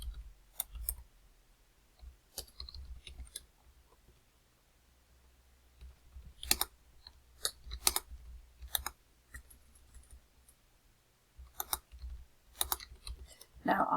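Scattered, close clicking of computer keyboard keys comes in short irregular bursts with quiet gaps between, fairly soft and with no speech.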